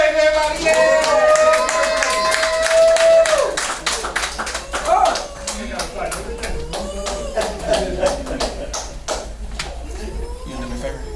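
An audience at a spoken word poetry event claps to welcome someone to the stage, a burst of sharp handclaps and cheering that thins into scattered claps while a host speaks over it.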